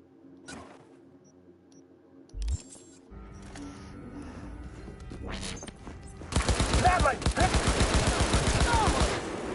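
Rapid gunfire in the video game Cyberpunk 2077 erupts after several seconds of quieter ambience, with loud, dense bursts of shots running through the last three seconds.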